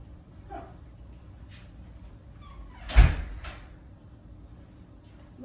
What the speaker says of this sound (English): Right, door open.